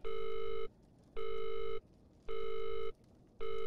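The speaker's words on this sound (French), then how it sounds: "On peut pas composer de chiffres sur le téléphone." A telephone rings in the horror video game Visage, four evenly spaced electronic ring bursts with short silent gaps between them, clear and moderately quiet, with no talking.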